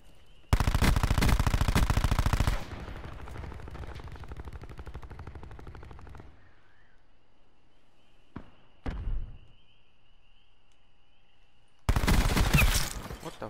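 Light machine gun fire in a first-person shooter video game: a loud, rapid sustained burst, then steadier automatic fire fading out, a few isolated shots, and another heavy burst at the end.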